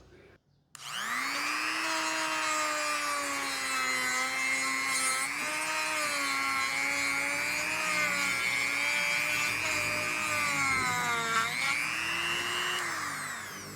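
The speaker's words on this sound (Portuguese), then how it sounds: "E vou colocar agora essa lixa aqui, ó. Ela vai ter um desbaste maior nessa madeira aqui para fazer esse corte." A Hanabi 135W rotary tool fitted with a sanding bit grinds into wood, a steady high-pitched motor whine with rising and falling pitch as pressure changes, loud and close for about thirteen seconds.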